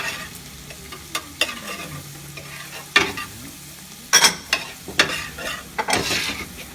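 A butter and plain flour roux cooks in a pan, with soft frying underneath and sharp scraping stirs and clanks at irregular intervals, close up and without speech.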